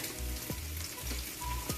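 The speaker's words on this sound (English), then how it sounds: "let that sizzle up for a bit" Sesame oil sizzling and crackling steadily in a hot pan, with a few soft clinks and taps of a utensil against the cookware.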